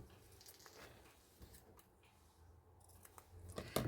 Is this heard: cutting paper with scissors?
yes